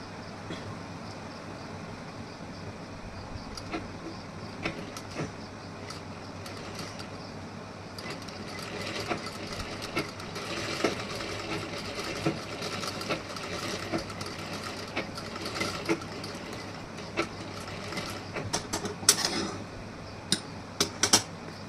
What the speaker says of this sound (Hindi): अब यहाँ से हमें ऐसे स्टिचिंग करनी है।